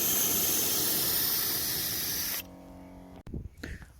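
A spray gun paints a car, giving a loud, steady close hiss for about two seconds before cutting off, followed by faint clicks and handling noises.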